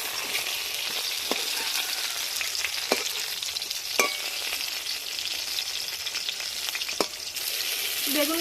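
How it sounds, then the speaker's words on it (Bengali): Eggplant slices frying lightly in oil in a pan, a continuous bright sizzle with occasional sharp pops and clicks of stirring, close and steady, with no voices. "বেগুন খুব বেশি ভাজার দরকার নেই, হালকা করে ভাজা হলেই হবে"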